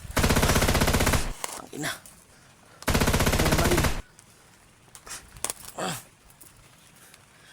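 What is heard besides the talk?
gunshots fired nearby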